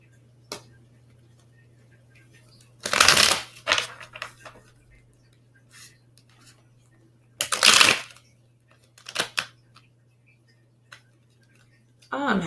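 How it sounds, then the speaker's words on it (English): Bursts of tarot cards being shuffled, two loud riffling runs with smaller taps and shuffles between them, over a low steady hum. "Oh, I'm having trouble shuffling."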